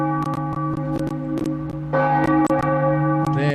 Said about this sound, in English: So I'll fade up with the church bells.